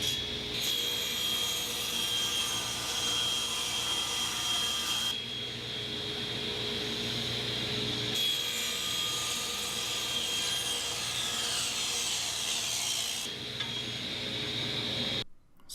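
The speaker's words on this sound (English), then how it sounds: "Now here I am cutting the 46-inch long piece into 3 2¼ inch wide pieces" A table saw rips a 46-inch wood piece into three strips about 2¼ inches wide, a loud steady whine running almost continuously across three passes with brief dips between cuts.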